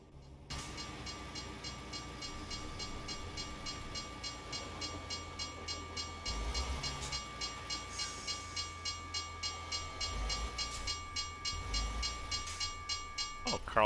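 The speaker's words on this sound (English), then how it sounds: "and it's a train." A train rolls past in the Euro Truck Simulator 2 driving game with a steady rumble and a rhythmic clickety-clack of wheels that grows louder as it goes by.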